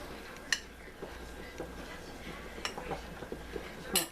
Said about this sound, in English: I have a plastic whisk to use on this pan